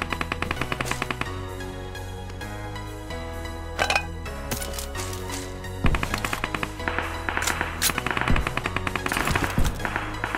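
Bursts of rapid gunfire in the video game PUBG crackle over steady background music, with fast shot volleys clustered in the second half.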